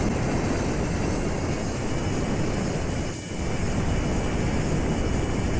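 Gyro disc aircraft engines in the Homebrew Vehicle Sandbox game give a loud, steady, dense roaring hum, continuous throughout with a brief dip partway through.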